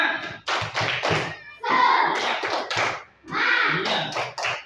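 Students in a classroom do a rhythmic spirit clap, with sharp bursts of clapping and thumping in short repeated groups separated by brief pauses, and children's voices joining in along with the beat.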